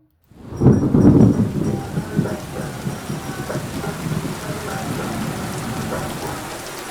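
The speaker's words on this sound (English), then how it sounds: "in the middle of unceasing rain" Steady, unceasing rain pours down, with a deep rumble of thunder rolling loud near the start before easing into a continuous hiss of falling rain.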